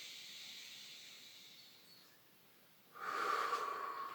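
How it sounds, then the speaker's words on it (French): Breathing exercise: a soft, quiet inhale through the nose fades out, then a louder, steady exhale through the mouth follows, heard close and alone without talk. "j'inspire par le nez et je souffle par la bouche"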